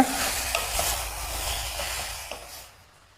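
Oyster and shimeji mushrooms are stir-fried in a pan without added water, giving a close, hissing sizzle with scraping stirs that gradually fades toward the end.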